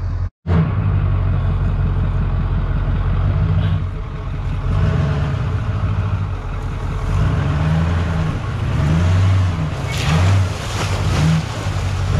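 A large dually truck engine on an eight-wheel-drive off-road rig drones steadily at close range, its pitch rising and falling as it revs while driving over rough ground.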